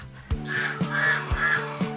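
Several loud honking calls from geese and ducks on a farm, roughly three or four repeated cries over a low background hum, fairly close.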